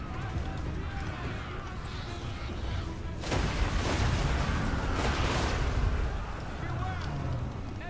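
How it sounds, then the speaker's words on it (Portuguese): An artillery shot fires during a siege in a fantasy strategy video game, a loud booming blast over constant battle noise, with voices talking throughout. "Olha o tiro."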